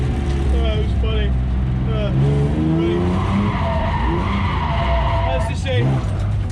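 A BMW E36 M3 drifts on a track, its tires skidding and squealing in long, loud wavering screeches over a roaring engine, with a voice talking over the top.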